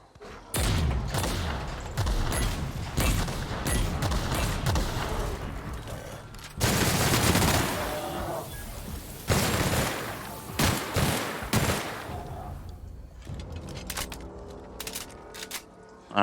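Repeated loud shotgun blasts from a tactical shotgun in The Outer Worlds, a close rapid volley of booming shots with echoing tails, thinning out toward the end.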